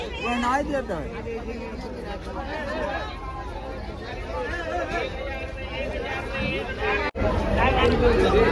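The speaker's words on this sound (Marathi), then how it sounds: "तुम्ही इथे पाहू शकता किती गर्दी आहे, फुल गर्दी आहे इथे" Dense crowd bustling at the Bhaucha Dhakka fish market in Mumbai: a constant, loud babble of many overlapping voices and shouts close around, steady throughout with a momentary dropout near the end.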